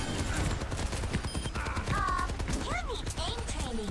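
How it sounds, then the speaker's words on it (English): Rapid gunfire crackles through an Overwatch match, dense bursts of shots layered with other game effects and talk over the action. "Oh no, they're shooting ghosts."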